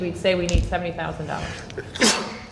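A single sharp sneeze bursts out partway through a speaker's remarks at a school board meeting, loud and close, with talk continuing around it.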